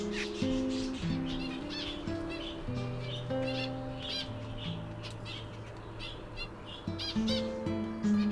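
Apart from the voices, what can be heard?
zebra finch chicks chirping in garden aviary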